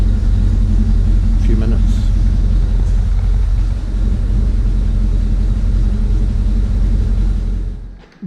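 A Rolls Royce Silver Shadow engine idles inside a warehouse as a loud, steady low rumble that cuts off abruptly at the end, with someone briefly talking over it.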